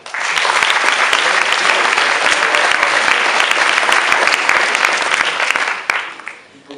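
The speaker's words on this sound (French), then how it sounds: "Je pense qu'on peut les applaudir." An audience at a student eloquence contest in Angers breaks into loud, dense applause that holds steady for several seconds before tapering off.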